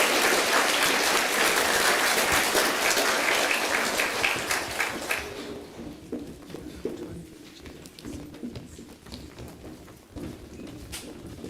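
Students and staff at a school assembly applaud, loud dense clapping for about five seconds that thins out into scattered, fading claps.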